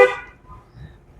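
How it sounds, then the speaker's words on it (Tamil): A short car horn honk sounds at the start during a driving lesson on the road, a single bright toot that quickly fades into low engine and road rumble. "ஹார்ன் அடிச்சிடும்"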